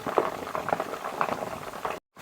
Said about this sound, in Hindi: अब अभी तक इसका पानी खुश्क नहीं हुआ, अभी ये आवाज़ आ रही है जो पानी की।